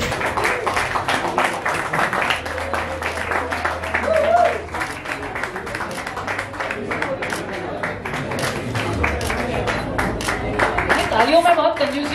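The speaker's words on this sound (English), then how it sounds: "Can we all clap, please?" An audience applauds at a company and music launch event, with a steady patter of clapping running throughout, loud and close, mixed with voices and brief tonal sounds.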